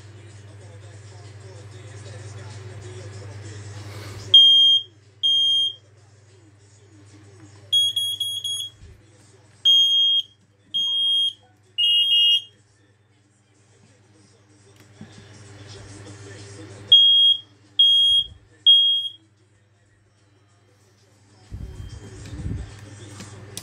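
Small smoke alarm devices chirp in a walk test, giving short high piercing electronic beeps in separate groups across the stretch, with a low hum and someone speaking between the bursts.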